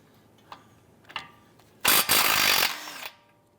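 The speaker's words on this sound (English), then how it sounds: "Using our 17mm socket, let's go ahead and loosen and remove this nut." A power tool with a 17mm socket loosens a nut on a 2012-2017 Toyota Camry steering rack: a few short clicks and taps, then one loud, sustained whirring burst of about a second that stops abruptly, followed by quieter handling noises.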